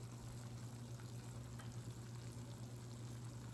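A whole roasted chicken fresh out of the oven sizzles and crackles faintly, a steady soft hiss with low hum, no talking.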